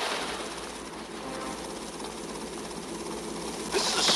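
Helicopter in the video game GTA Vice City Stories, a steady whirring engine and rotor drone that holds continuously at moderate level and swells slightly at the end.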